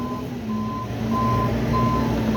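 A snow removal truck reversing in Mattapan Square, steady evenly spaced backup beeps over a loud diesel engine rumble, close and without talk.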